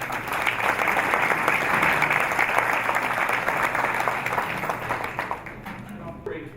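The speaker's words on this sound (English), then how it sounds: "So let's give a round of applause." A round of applause at a Lincoln High School program gathering rises quickly, stays full for several seconds, then tapers off toward the end with a murmur of voices underneath.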